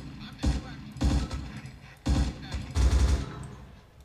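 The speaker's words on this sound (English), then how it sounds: "Enemy machine gun to our right close." Enemy machine gun fire in Arma 2, four heavy bursts of rapid shots close by, each a loud clustered rattle separated by short gaps, without voices.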